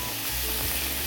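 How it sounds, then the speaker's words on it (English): Steady, loud sizzle of garlic hitting a hot pan of cabbage in an RV kitchen, a continuous hiss with a slight stir midway and no talking. "want to throw some garlic in here"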